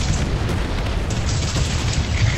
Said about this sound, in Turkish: Yok, önüme bomba düştü.